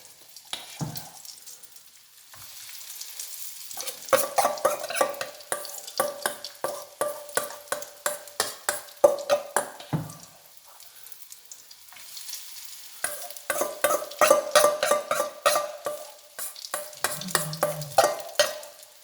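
Courgette fritters frying in hot oil: a continuous crackling sizzle with bursts of sharp popping that swell and fade, close and fairly loud, with no voices.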